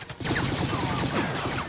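Blaster gunfire in the video game Star Wars Battlefront, a rapid burst of repeated shots with metallic zaps, dense and continuous for under two seconds.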